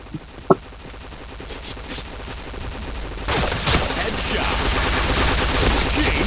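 Gunfire in a shooting video game, a steady spray of rapid automatic shots building into a dense continuous burst through the second half, with one sharp isolated shot early on.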